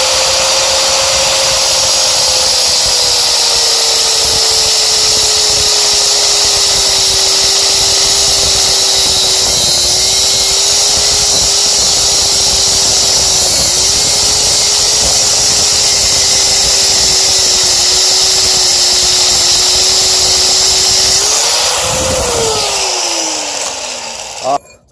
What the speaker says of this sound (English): So I'm going to actually angle grind off of a tool I made already.